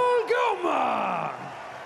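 At the 2024 STIHL Timbersports team world championship in Toulouse, a crowd cheers the Belgian team. A loud, drawn-out whoop swoops downward over a crowd roar that slowly fades.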